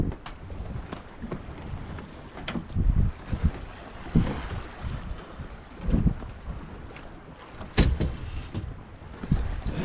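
A sailboat under sail on the Potomac River, with wind buffeting the microphone, soft water sloshing against the hull and occasional creaks and knocks, gusts rising and falling unevenly.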